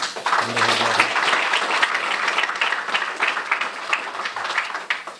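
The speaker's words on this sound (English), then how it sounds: "We can clap for him too." An audience at a police department's annual public safety briefing applauds loudly and steadily for several seconds, the dense clapping sustained throughout and easing slightly toward the end.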